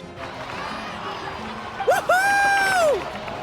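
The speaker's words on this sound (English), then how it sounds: "Let's give a huge round of applause to our brave young warrior" A crowd cheers and applauds in a Genshin Impact cutscene set in Natlan, a steady wash of noise with a high whooping voice rising briefly over it near the end.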